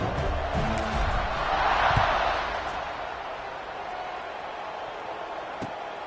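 College football stadium crowd just before kickoff, a broad, steady roar that swells briefly and then settles to a lower wash of noise.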